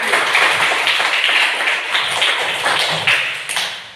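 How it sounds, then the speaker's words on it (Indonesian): A classroom of students claps for classmates, a brisk, dense patter of many hands close by, steady and lively for several seconds before easing slightly at the end. "Kita berikan tepuk tangan"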